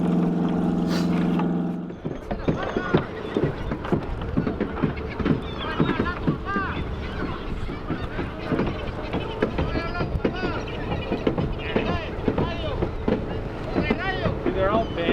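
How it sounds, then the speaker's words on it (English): Sharp irregular knocks and bangs as people strike boat hulls on the water in Mexico to herd fish, repeated hits echoing over wind noise and engine drone, with voices talking throughout. "They're all banging on the boat."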